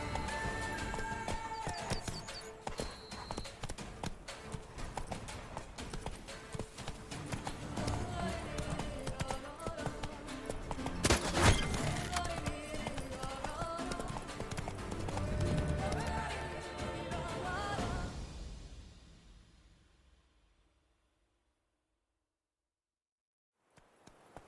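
Roach, a horse in The Witcher 3 video game, gallops with steady clip-clop hoofbeats and an occasional whinny over game music, loud and close for about eighteen seconds before fading to near silence.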